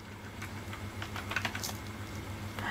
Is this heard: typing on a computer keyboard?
yes